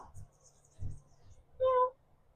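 A cat meows once indoors, a short tonal cry standing out clearly against quiet room sound with low murmurs before it.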